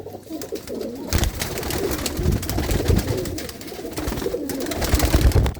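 Pigeons from the Gurdaspur area coo and call steadily at close range, with a busy mix of overlapping bird voices and some flutter throughout, with no talk.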